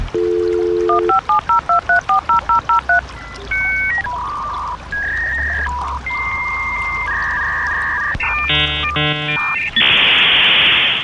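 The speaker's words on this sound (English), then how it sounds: "Remember dial-up internet? That sound you'd hear every time you connected" A dial-up internet modem connects: a quick run of touch-tone dialing beeps, then a loud burst of screeching, warbling handshake tones and a closing hiss of static, all close and clear with no talk.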